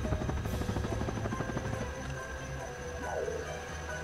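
In Ratchet and Clank Going Commando on PS2, a helicopter glide gives a steady, close whirring buzz with a sharp rhythmic pulse that eases toward the end, under game background sound.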